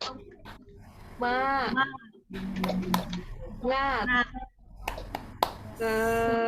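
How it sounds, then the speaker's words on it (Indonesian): Schoolchildren in a classroom do a rhythmic spirit clap, short bursts of patterned clapping and snaps alternating with chanted group words, led by a teacher. "Kita bersama-sama tepuk semangat ya."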